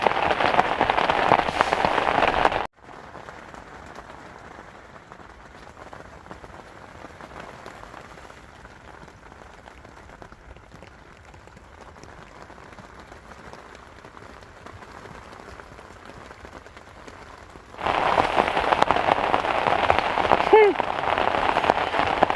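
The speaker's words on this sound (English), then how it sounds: "the rain is not stopped since last night" Steady rain pours outside at a reservoir during a carp fishing trip, a dense continuous hiss of drops on surfaces, with louder, closer bursts at the start and end framing a quieter, muffled stretch in between.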